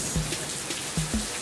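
Rain falling with a steady hiss, punctuated by a few distinct drips landing nearby.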